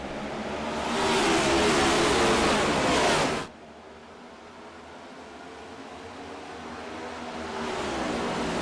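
Race car engines roar loudly at the start of an iRacing race at Fort Worth, a dense wash of engine noise that swells for a few seconds, drops sharply, then builds again.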